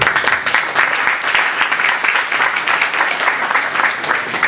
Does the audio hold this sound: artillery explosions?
no